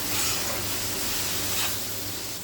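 Spiced fried potol (pointed gourd), potato and soybean pieces sautéing in a pan with masala, giving a steady close sizzle and stirring hiss throughout, with no voices.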